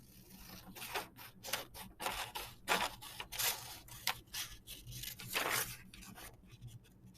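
Scissors cut out a paper handout in a quiet classroom, with a run of crisp snips and rustling paper strokes, fairly close and with no talk.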